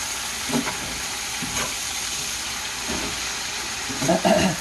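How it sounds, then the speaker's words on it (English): Salted and peppered pork chops fry with garlic in an iron skillet, giving a loud, continuous sizzling hiss with a few scraping stirs and a louder crackling burst near the end. "I just want it to get in there good and fry with that garlic in there with it"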